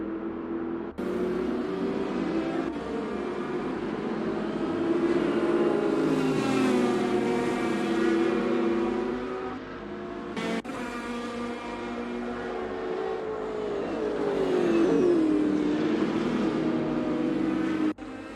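Race car engines in a sim racing game at Mugello, with rising and falling revs as cars accelerate and shift through gears, a steady mid-distance engine drone with pitch sweeps and no talking.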